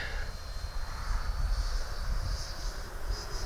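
E-flite Viper 90mm electric ducted-fan RC jet flying at half throttle, a steady distant whooshing whine with wind rumble across the whole stretch.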